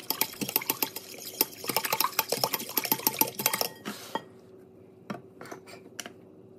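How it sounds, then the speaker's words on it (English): Sourdough being stirred with a dough whisk, a fast run of rhythmic clicking, knocking strokes against the bowl for about four seconds, then a few isolated taps, close and clear without voices. "Stir a bit with the dough whisk."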